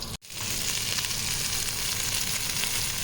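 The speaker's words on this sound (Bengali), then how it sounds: "আমি কড়াইতে সমস্ত টিক্কিগুলো ভাজতে দিয়ে দিয়েছি" Chickpea tikkis shallow-fry in oil in a wok, giving off a loud, dense, even sizzle that starts after a brief gap and holds steady up close with no talking.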